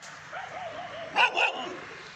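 Two sharp dog barks ring out close together, fairly loud, over low background hum.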